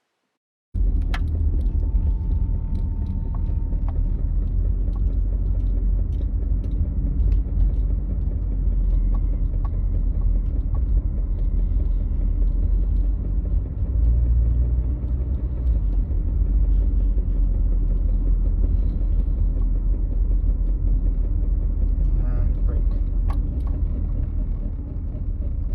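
Continuous low rumbling drone from a 1996 Infiniti G20 while driving, with a strange noise coming from the brakes or wheels, steady and loud for the whole stretch after a short silent start.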